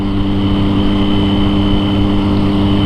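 A Triumph 675 three-cylinder motorcycle idles steadily close by, its exhaust giving a continuous, even drone with a strong low hum and no speech over it.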